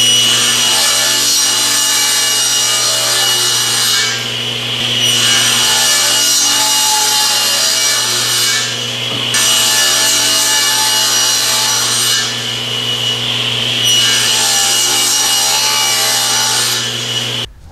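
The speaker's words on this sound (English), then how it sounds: "we'll head over to the table saw now and we'll batch cut out our side pieces" Table saw batch cutting cherry wood side pieces for a step stool, a loud, steady whining roar of the blade through the wood, with short dips between passes and no talk.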